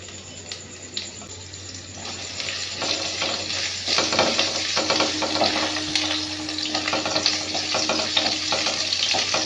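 Chili flakes and chopped green chilies dropped into hot oil already tempered with cumin, the sizzle swelling from a light crackle into a loud, busy spitting fry up close.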